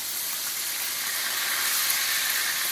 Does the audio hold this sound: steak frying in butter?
yes